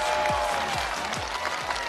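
Studio audience applause on a Chinese TV game show stage, steady dense clapping throughout, loud and close, with a faint voice underneath.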